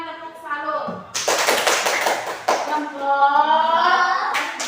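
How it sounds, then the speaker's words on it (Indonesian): A class performs a rhythmic tepuk salut clapping routine during an Indonesian school lesson, with sharp claps and taps in quick bursts mixed with children chanting and talking throughout. "kita berikan tepuk salut."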